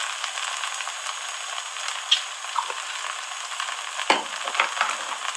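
Ingredients roast in a pan for a milk dessert with a steady low sizzle, broken by a few scraping stirs, close and moderately quiet.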